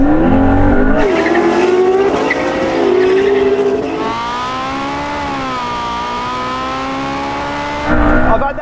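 LaFerrari, Porsche 918 and McLaren P1 supercars race, loud engines revving with rising and falling pitch and brief tire squeal, close and continuous with talking mixed in.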